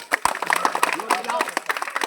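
Scattered hand claps from a small village group gathered outdoors around a caught snake, sharp uneven slaps mixed with overlapping chatter and voices.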